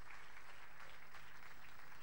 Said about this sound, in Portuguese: Vamos receber a Lúcia e a Ava com uma grande salva de palmas, mas carinhosa